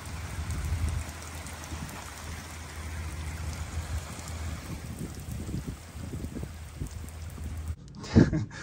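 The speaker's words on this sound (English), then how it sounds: "This rain, this time of year, it rains a lot." Rain falls steadily outdoors on a spring day in Kentucky, a dense continuous hiss with a low rumble, and a brief louder clatter near the end.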